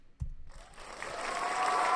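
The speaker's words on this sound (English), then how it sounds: "Can we have a moment of applause?" Crowd applause at a basketball watch-party livestream swells in after a brief thump, building into steady, dense clapping and cheering that grows louder toward the end.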